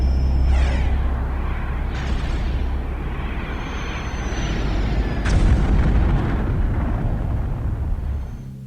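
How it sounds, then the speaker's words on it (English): An explosion and fire at a target site in the Homeworld space strategy game, heavy rumbling booms and crackling blasts, several bursts in a row, loud and dense, with no talk over them. "Target site explosion and fire."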